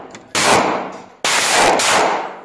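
Two heavy booming shots from a Taurus Tracker .44 Magnum revolver, each a sharp loud blast with a long echoing decay, fired about a second apart outdoors.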